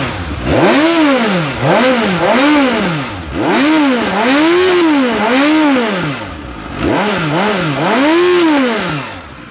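A 2018 Suzuki GSX-S 750 motorcycle engine revs repeatedly, rising and falling in four or five loud bursts close by, idling briefly between throttle blips.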